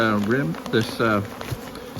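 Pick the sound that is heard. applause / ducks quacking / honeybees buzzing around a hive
honeybees buzzing around a hive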